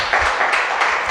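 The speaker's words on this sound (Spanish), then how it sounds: "Denle un aplauso al Señor" A church congregation claps for about a second, a dense burst of applause that stays loud and even without any talking.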